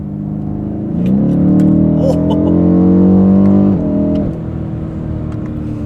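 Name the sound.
BMW M850 exhaust burbles while revving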